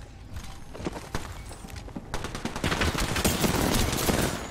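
Gunfire in the video game Apex Legends: rapid, dense bursts of shots that build into a loud, sustained volley, with scattered sharp cracks at the start.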